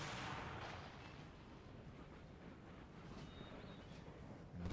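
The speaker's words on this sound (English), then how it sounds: "Right, cannon, focus fire on that first regiment." Cannon artillery fires in an Empire Total War battle, heard as a dense, continuous rumble of distant booms and crackling blasts that blur into a steady roar, with a sharper burst at the very end.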